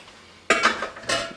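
Cooked chili colorado ingredients slide from a metal vessel into a pot, giving a few loud scraping clanks and clinks of cookware in quick succession, close by and with no talk.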